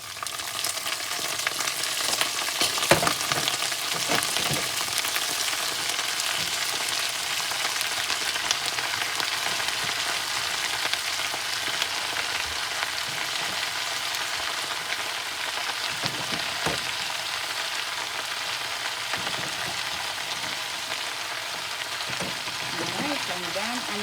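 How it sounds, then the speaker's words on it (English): Cabbage frying in a pan, a steady close sizzle that runs the whole time with occasional stirring clatter, at an even level. "now I'm going to put my cabbage in"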